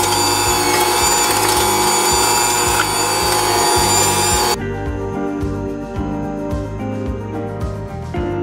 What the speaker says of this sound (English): I'm gonna go ahead and whisk it until it's fluffy.